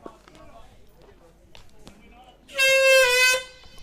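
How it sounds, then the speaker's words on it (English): A short, loud, blaring air horn sounds for about a second at a fastball softball game, harsh and buzzy, after quieter crowd murmur and talk. "With probably the worst sounding air horn ever"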